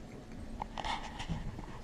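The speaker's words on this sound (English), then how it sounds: "obviously, it's Spencer the Brew Dog" A dog pants softly and steadily close by during a home lager brewing day, a faint, quick breathing rhythm over a light background hiss with no talking.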